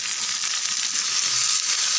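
Tomatoes sizzle steadily as they sauté in a hot pan for a spicy tomato chutney, a close, continuous frying hiss with no voices.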